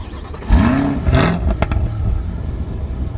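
A warm 2021 Chevrolet C8 Corvette engine cranks and fires up with a quick rising rev, then settles into a steady rumbling idle with some whir and clatter close by.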